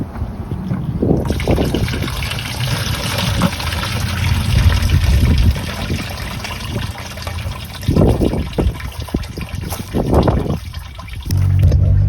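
Liquid drains out of a 12V car battery in a continuous trickling, gurgling flow with a few stronger gushes, heard close and without talk.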